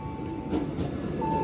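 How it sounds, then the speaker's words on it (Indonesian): A steady rumble of a passing KRL commuter electric train bound for Tanah Abang at Tenjo Station, with a faint high whine, continuous and fairly near, no voices. "Ini ada KRL TM 6022 tujuan Tanah Abang"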